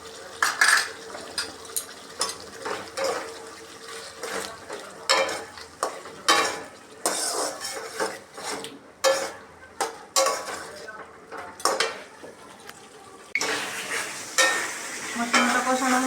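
Cumin and garam masala paste with a little green chilli paste sizzles as it is stirred for a pangas fish head curry, with repeated scraping and clanking of a spoon against the pan in irregular bursts, close and fairly loud.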